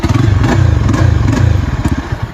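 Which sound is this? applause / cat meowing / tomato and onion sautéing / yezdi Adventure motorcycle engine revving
yezdi Adventure motorcycle engine revving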